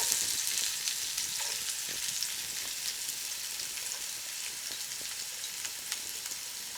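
Onions fry in a small amount of oil in a pot for pineapple fried rice, a steady, moderately quiet sizzling hiss with faint crackles and occasional light stirring.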